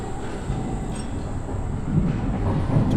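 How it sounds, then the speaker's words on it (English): A tram ride in the video game Abiotic Factor: a steady rail rumble with a low rolling drone and faint clatter, swelling a little louder toward the end, with no voices. "So we're going to go for a quick tram ride."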